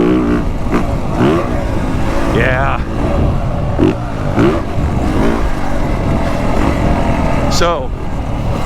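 A 2023 Yamaha YZ450F motocross bike engine revs quickly and smoothly, a sustained loud motor drone with a few sharp throttle blips, while someone talks over it nearby.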